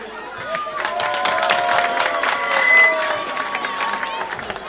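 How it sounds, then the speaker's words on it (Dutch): A crowd at a carnival playback show applauds three girls with steady clapping and cheering, the noise swelling briefly midway. Voices carry through the applause. "Graag een groot applaus voor deze 3 meiden."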